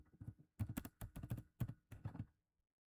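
Close, quiet typing on a computer keyboard while writing C# code, with quick bursts of several keystrokes separated by brief pauses, heard alone without talk.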